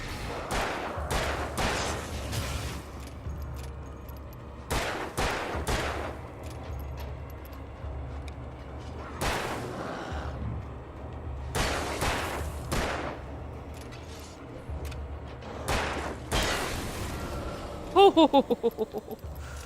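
Gunfire in the Alan Wake video game: several sharp, loud shots spaced irregularly, some in quick pairs or clusters, over a low steady background rumble.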